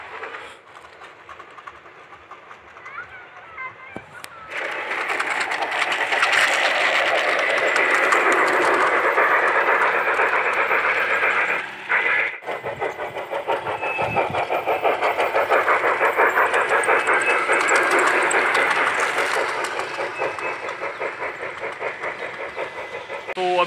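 Small toy model trains run around a miniature CSMT railway station display, giving a steady, close mechanical whirring rumble that holds for most of the stretch, with one brief dip partway through.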